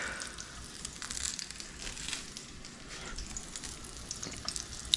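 Steak sizzling in a hot pan, a steady close crackle and hiss with scattered pops running throughout, with no talking over it.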